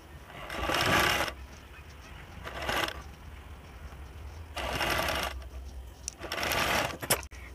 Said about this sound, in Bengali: এবারে আমি উল্টো দিকে উল্টে আর একটি সেলাই দিয়ে দেব।